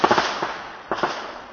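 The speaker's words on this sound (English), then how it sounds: "Fireworks." Fireworks pop in a few quick bursts, then a short pause and another pair of cracks, sharp and fairly close, fading between blasts.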